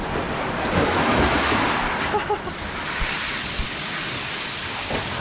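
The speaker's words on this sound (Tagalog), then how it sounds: "Lakas ng alon." Strong ocean waves crash and roar continuously near a lighthouse on the coast, a loud, dense wash of surf with heavy wind buffeting the microphone throughout.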